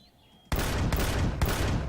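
A cannon drone in Empyrion: Galactic Survival fires a loud burst of gunfire after a brief quiet, three heavy rapid volleys in quick succession.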